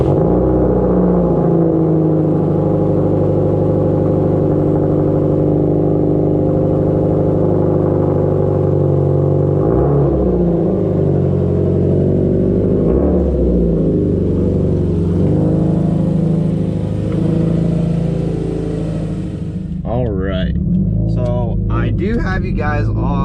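Subaru STI engine droning steadily from inside the cabin while driving, a loud continuous rumble with small shifts in pitch, and someone talking over it.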